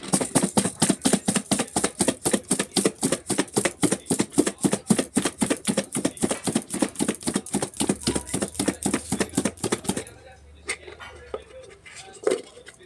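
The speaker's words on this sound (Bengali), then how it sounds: "এবার একটা থালা নিয়ে ভালো করে ঢেকে ঝাঁকিয়ে নেব।" Pomelo salad shaken in a dish covered with a plate, a fast, steady rattling that pulses loudly and evenly for about ten seconds, then stops, leaving faint kitchen sounds.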